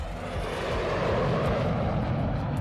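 Airplane sound effect: a loud, rumbling jet engine roar that swells slightly and holds steady, with deep low rumble and a broad hiss.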